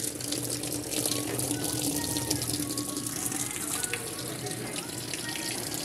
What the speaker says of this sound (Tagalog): Bukas na yung tubig.